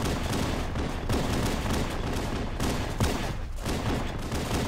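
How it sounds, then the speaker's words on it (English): Pistols fire in rapid, overlapping volleys in the Halo game's Silent Cartographer mission, a dense continuous barrage of loud cracks with a few sharper bursts standing out. "There's a bunch of pistols going off"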